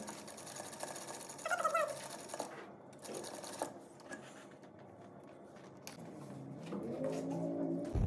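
A sewing machine stitching the sleeve seam of a toddler's dress runs in a steady, close mechanical whir, with brief pauses and a change in pitch toward the end.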